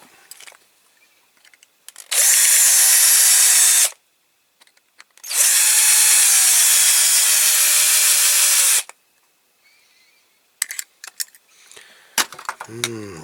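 A power drill whirs loudly in two long bursts separated by a pause, drilling into a die-cast Matchbox toy truck, followed by scattered clicks and handling noises.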